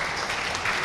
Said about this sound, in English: A big applause to the speakers.